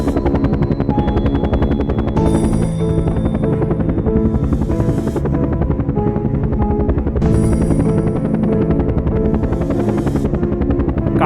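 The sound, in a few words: helicopter taking off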